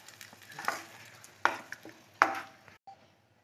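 A spoon stirs tamarind water into ulli theeyal, a Kerala shallot curry, in a pan: three distinct scraping strokes with a low sizzle between them, close and fairly loud, then quiet at the end.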